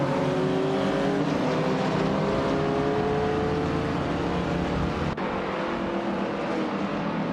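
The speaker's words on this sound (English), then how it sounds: "Hope you're ready to enjoy some epic AI car races with us" Several race cars in an AI-driven racing game roar together in a continuous, loud engine drone, with whining gear tones rising and shifting as the cars jostle for position.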